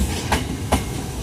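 A KRL electric commuter train rolls along the rails, a steady rumble with two distinct clickety-clack beats of the wheels over rail joints, heard close up.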